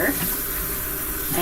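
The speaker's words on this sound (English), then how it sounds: "So actually, I'm going to run this under the water," Tap water runs steadily over a sprouting container at a sink, a close, continuous splashing gush that holds at an even level throughout.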